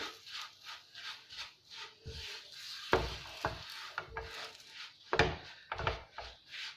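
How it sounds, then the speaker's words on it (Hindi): Sesame seeds being stirred in a pan for til chikki, with irregular scraping and rubbing strokes of a spoon against the pan, some sharper knocks among them, close and fairly quiet with no talking. "तमाम तिल अच्छे से मिक्स कर लेंगे"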